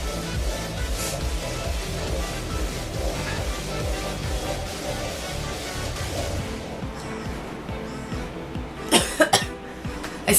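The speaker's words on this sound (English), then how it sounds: "still have a nasty cough." Several abrupt coughs burst out near the end over a constant, noisy background hum.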